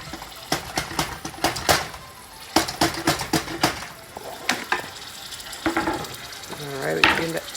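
Onions drop into a hot pan for beef stroganoff and sizzle steadily, with repeated sharp scraping and stirring clatter of utensil against pan throughout, close and fairly loud.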